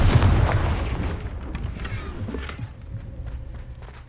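The Confringo blasting spell in Hogwarts Legacy lands with a loud booming impact at the start, then rumbling debris and scattered thuds fading away.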